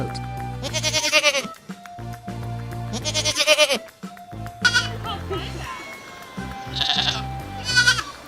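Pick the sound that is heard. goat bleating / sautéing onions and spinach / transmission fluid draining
goat bleating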